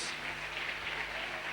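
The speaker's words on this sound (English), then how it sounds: "they deserve another round of applause for such a colourful performance" Applause from a 1987 Jago's Fantasy Princess pageant audience after a colourful performance, a steady wash of clapping at moderate level with a faint hum underneath throughout.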